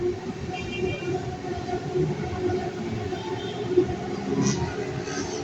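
A Bangkok skytrain running past the skywalk, a steady rumbling rail roar with faint wheel noise lasting throughout, close and continuous under open-air ambience.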